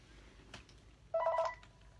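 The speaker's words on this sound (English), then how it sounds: "And now the phone's ringing." A phone rings at home in a short electronic burst of repeated tones, moderately loud against a quiet background, stopping after about half a second.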